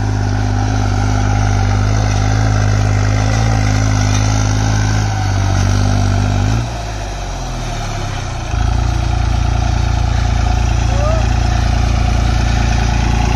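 Tractor engine pulling a harrow in second gear high range, a loud, steady diesel drone up close that dips and labours briefly midway before settling back to a strong, even roar.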